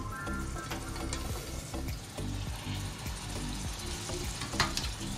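Fish egg masala cooking in a covered pan gives a steady, close sizzle and crackle that runs without a break, with a few soft clicks and a brief sharper knock near the end.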